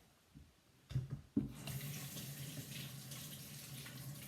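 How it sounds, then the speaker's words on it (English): Water from a kitchen tap runs into a sink as a sweet potato is washed, beginning with a few faint knocks before the steady close gush of the stream. "I'm going to take this sweet potato, I'm just going to wash it off a minute"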